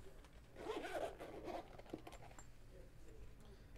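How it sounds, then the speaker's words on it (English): Zipper being drawn along a sturdy camera gimbal carrying case, a quick rasping pull of about a second and a half, close and fairly quiet, with faint handling noise after. "Zippered case."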